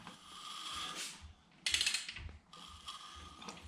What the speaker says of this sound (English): I was turning the motor over by hand